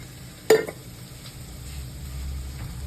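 Sliced onion with ginger garlic paste and a little oil hits a hot pan with a sharp clatter, then settles into a soft, steady sizzle and light stirring at close range.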